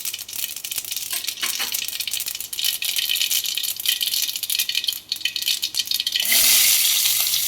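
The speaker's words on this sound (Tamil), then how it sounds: "எண்ணெய் காஞ்சிருச்சு, கடுகு போட்டுக்கலாம்." Mustard seeds dropped into hot oil for a tomato kurma set off a steady, dense crackle and rattling spatter that swells louder near the end, with no voices.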